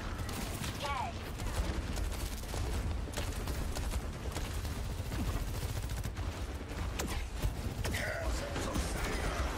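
Video game gunfire during a FACEIT playoff match crackles in rapid, steady bursts across the whole stretch, a busy layer of shots and effects with no clear pause.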